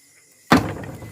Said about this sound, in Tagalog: hindi ko mabuksan na itong pinto